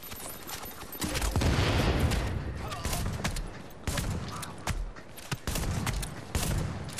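Shotgun blasts in The Division's Dark Zone, sharp irregular bangs fired in quick succession, mixed with other gunfire and someone talking over the shooting.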